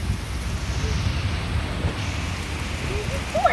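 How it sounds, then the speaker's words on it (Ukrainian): Heavy rain roars steadily with gusting wind buffeting the microphone, a dense, constant wash of noise. "Це просто стіна дощу і офігезний вітер."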